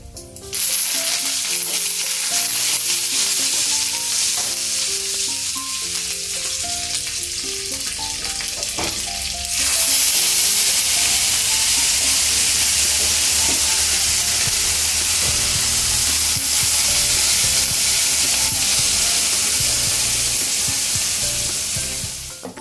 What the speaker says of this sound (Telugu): ఇప్పుడు దీనిలోనే ఒక 5 ఎండుమిర్చి అవి కొద్దిగా ఫ్రై అయిన తర్వాత అప్పుడు కరివేపాకు వేసుకోవాలి